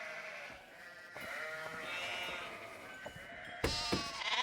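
Sheep in a Nancy Drew video game bleat in several wavering calls, a louder pair of bleats near the end, over faint background sounds.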